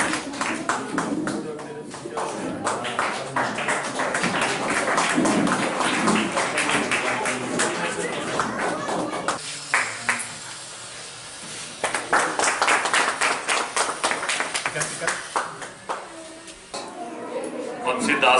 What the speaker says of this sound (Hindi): जोरदार ताली दे।